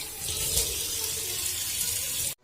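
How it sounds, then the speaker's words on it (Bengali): A kitchen tap runs steadily while dishes are washed after dinner, a constant close hiss of water with faint clinks, stopping abruptly at the end. "সব রান্নাঘর পরিষ্কার করে বাসন টাসন মেজে সব কমপ্লিট"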